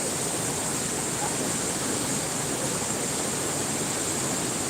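A flooded river rushing after heavy rain and carrying wood, a loud, steady, dense roar of water that holds without a break throughout.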